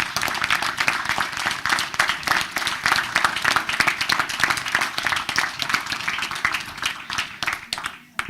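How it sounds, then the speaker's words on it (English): Audience applause at a township committee meeting honoring a Boy Scout troop, dense continuous clapping at close range that holds steady and then tapers off near the end. "Big round of applause for these guys."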